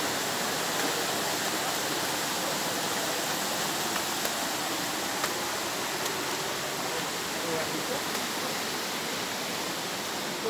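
Water flows steadily at a natural spring in San Vicente, Pilar, Bohol, a dense, even rushing wash that fills the whole clip at constant loudness, with a brief voice heard over it.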